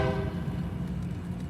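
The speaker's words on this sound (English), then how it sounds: "And the train horn started singing." A passing train sounds its horn, a loud tonal blast at the very start that quickly fades into a low, continuous rumble of rolling wheels nearby.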